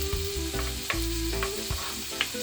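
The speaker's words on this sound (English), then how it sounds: "I'm gonna start frying up my onions. I'm gonna saute my onions now" Onions and garlic sizzle and fry steadily in a hot pan for a Jamaican rundown with mackerel, with a continuous crackle broken by a few stirring clanks and scrapes, close and fairly loud, and no talking.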